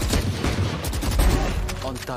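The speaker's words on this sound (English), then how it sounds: "Another headshot through the structure." Gunfire in a Valorant esports grand final match, rapid shots crackling densely over a busy game mix, with a commentator talking excitedly over it.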